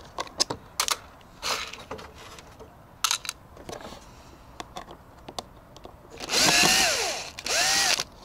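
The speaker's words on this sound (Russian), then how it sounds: "Открутим два винта, позиция 24" Two screws are backed out of a Makita DCM501Z coffee maker during disassembly, heard as scattered close clicks and ticks of the screwdriver and a short burst of whirring power-driver spins near the end.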